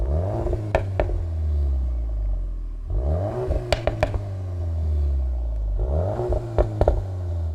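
A stock Volkswagen Golf 8 R 20 Years Edition engine revs hard in three repeated bursts, rising and falling, with exhaust crackles and pops between the pulls, loud and close.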